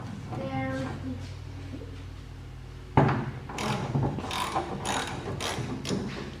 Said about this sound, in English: we're going to remove this bolt